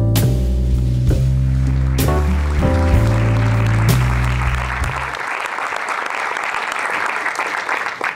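Applause from a film premiere audience swells under loud music at the start, then carries on alone as dense, steady clapping for several seconds.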